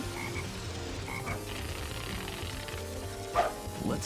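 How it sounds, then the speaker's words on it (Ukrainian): Frog croaking in Sonic Heroes, a couple of paired croaks early on over a game backdrop, followed by a brief sharp effect near the end, and no speech. "Она насквозь жаба полетіла."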